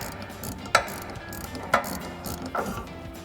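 Wrench ratcheting as it loosens a suspension nut on a Ford F-250 Super Duty front end, three separate sharp clicking bursts spaced about a second apart, close and fairly quiet, no talk.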